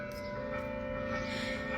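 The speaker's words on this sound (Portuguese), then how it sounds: "Por isso que ela está tocando o sino, é meio-dia." A church bell rings at noon, a steady sustained metallic toll heard at moderate distance without speech over it.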